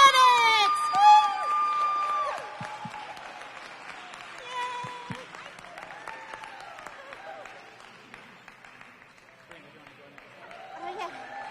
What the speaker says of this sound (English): Let's get that clap going.